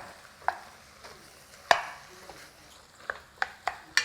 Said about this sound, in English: Just keep chopping it up until this is some good ground beef and then it's fully browned all over.